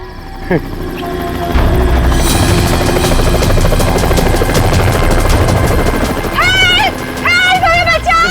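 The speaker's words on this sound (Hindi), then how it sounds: "सर लगता है ये रेस्क्यू टीम का चॉपर है जो हमें बचाने के लिए आया है।" A rescue team's helicopter approaching a dangerous island jungle, its steady rotor thump loud and continuous beneath tense voices and rising music throughout.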